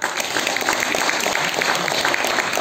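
Audience applause fills a book-house arts hall at a theatre gala evening, a dense, steady patter of many hands clapping at close range with no voices over it.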